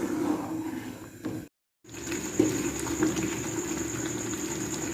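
Mixed fruit jam simmering in a pot, a steady low bubbling and soft hiss throughout, briefly cut to silence partway before resuming at the same level.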